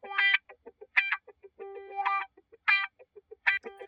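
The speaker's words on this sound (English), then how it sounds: "and so then I have a wah guitar," A wah-effect guitar sample playing short, vocal-sounding stabs in a syncopated rhythm, clean and up front with silent gaps between notes and no talk.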